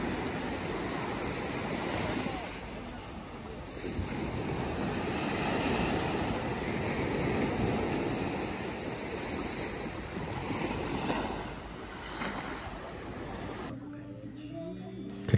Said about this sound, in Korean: 파도 소리 한번 들어보세요.